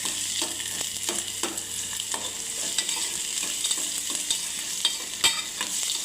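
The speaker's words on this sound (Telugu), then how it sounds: "ఇలా చిన్నగా కట్ చేసుకున్న ఆనియన్స్ వేయించుకోవాలి" Finely chopped onions frying in a pan for curry give a steady bright sizzle, with regular scrape-and-tap stirring strokes throughout and a louder knock near the end. No voices.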